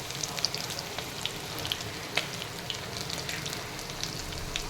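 Sambar onions (shallots) sautéing in hot oil for a lentil dumpling curry, a continuous close crackling sizzle with small pops scattered through it.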